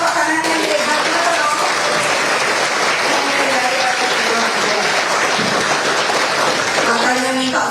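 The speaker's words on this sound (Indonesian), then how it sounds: "Ayo tepuk tangan yang hebat loh" Sustained, loud applause from a large audience at a political gathering in Indonesia, a dense steady roar of clapping with scattered voices and faint shouts mixed in throughout.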